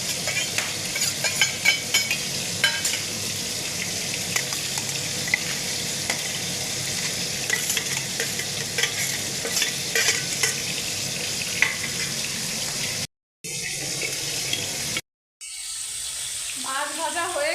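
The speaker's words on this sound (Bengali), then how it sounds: "মাছ ওদিকে ভাজা হচ্ছে" Fish fries in hot oil for a fish curry, giving a continuous close sizzle with occasional clinks and clatter of utensils. Two brief silent breaks interrupt it, and a short hiss of splashing sounds near the end.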